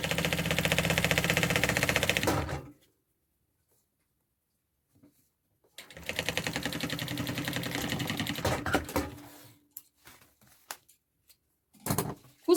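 Close sewing machine stitching a bag lining sandwich, a fast steady mechanical chatter in two long runs separated by silence, followed by a few short bursts.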